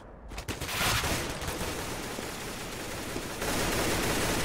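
Rapid bursts of gunfire from a Counter-Strike: Global Offensive match crackle densely and loudly, a sustained volley with a brief lull before another surge near the end.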